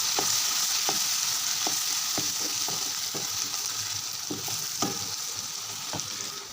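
Chana dal masala frying in a pan, with ginger and garlic paste among the ingredients, gives a steady close sizzle broken by repeated sharp scrapes and taps of a spoon stirring.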